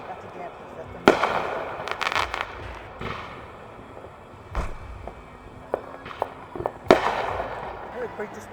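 Fourth of July fireworks going off at a distance, sharp bangs and crackling bursts scattered irregularly over a low outdoor background hum.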